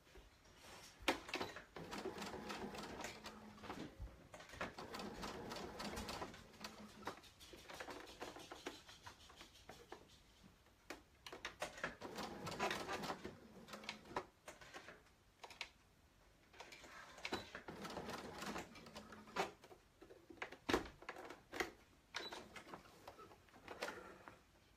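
A sewing machine stitches a shark tail blanket, running in bursts of rapid mechanical ticking and whirring with short pauses between runs, fairly quiet throughout.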